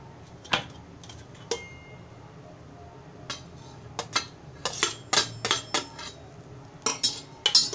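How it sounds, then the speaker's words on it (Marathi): Dry coconut being stirred and roasted on a hot griddle for Malvani egg curry, heard as sparse metallic scrapes and clinks of a utensil against the pan, quiet and close, picking up into quicker clusters toward the end. "खोबरं नुसतं असंच परतून घ्यायचं आहे"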